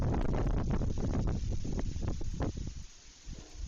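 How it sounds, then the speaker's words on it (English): Strong gusts of wind buffet the microphone outdoors on a windy day in Ukraine, loud rumbling bursts that ease and flutter toward the end. "A lot of wind going up there. You can hear it."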